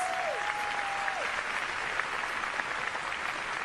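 Audience at a political event applauding in a dense, even wash of clapping, with a brief whistle near the start, steady and sustained throughout.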